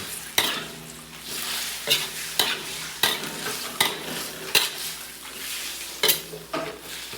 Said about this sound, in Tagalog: Lagay tayo toyo. Haluin muna natin.